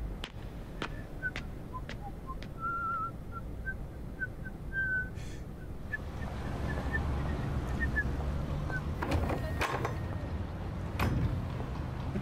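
A man whistles a lilting tune in The 39 Steps as he heads downstairs in hat and overalls, a thin melodic line over steady street ambience with a few sharp clinks.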